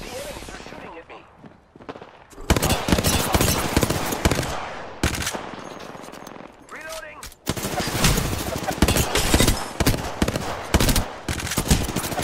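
Enemy gunfire in the video game Apex Legends, loud bursts of rapid automatic shots in repeated volleys with brief gaps between them, close and dense.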